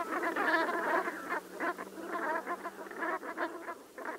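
Brent geese call on the Wadden Sea mudflats, a dense chorus of low, throaty honking and gabbling that runs steadily throughout, close and fairly loud with no talk.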